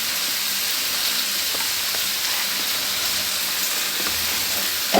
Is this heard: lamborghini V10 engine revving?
no